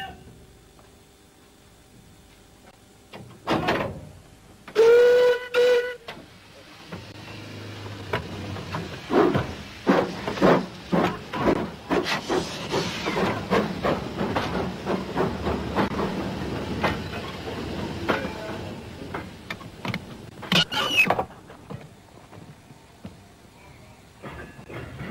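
Steam locomotive shunting wagons on the Lancashire and Yorkshire Railway: a sharp whistle blast early on, then sustained steam hiss with rhythmic exhaust chuffs and clanking, and a second brief whistle near the end.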